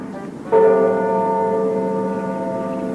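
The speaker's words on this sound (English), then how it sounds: "The rope rang the big bell right under Mrs. Bird's nest." A big church bell, pulled by a rope, strikes once after a short pause and rings out in a long, sustained, slowly fading hum.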